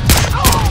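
Gunfire from the Splinter Cell: Blacklist video game, two loud broadband bursts about a third of a second apart, close and sharp, with game background noise between them and no talk.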